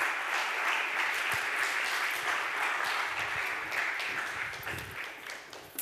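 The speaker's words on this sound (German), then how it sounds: "Heißt ihn doch mal mit einem herzlichen und warmen Lukas-Applaus ganz herzlich bei uns willkommen." A church congregation at a Sunday talk service in Berlin claps warmly to welcome a guest, steady moderately faint applause that tapers off toward the end.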